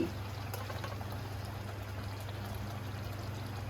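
Ghee being poured into a simmering egg korma in a pan, a soft steady liquid trickle over a low bubbling hum, even and unbroken throughout.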